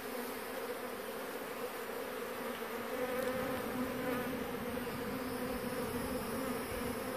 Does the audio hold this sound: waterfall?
no